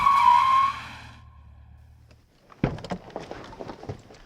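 A Holden car's tyres squeal loudly as it is put into a slide, a sustained screech that fades over about two seconds, followed by a short pause and then sharp clatters and rumbling.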